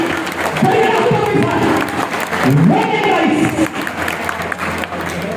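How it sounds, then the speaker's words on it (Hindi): Loud, sustained applause from a crowd at a community award ceremony honouring students in Mahendragarh, Haryana, steady and dense throughout, with voices and cheering mixed in. "हमारे समाज की आन बान और शान दोनों माता पिताओं के लिए एक बार जोरदार तालियां।"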